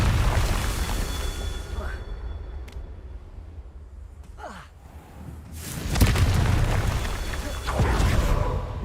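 A Confringo blasting spell goes off in Hogwarts Legacy, giving a loud, broad burst around the middle of the clip followed by a second surge, all over continuous game ambience and low rumble.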